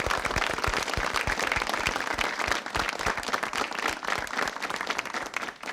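During an Indonesian TV quiz show, the studio audience gives the three contestants a full, sustained round of applause, with crisp, close claps and no talking.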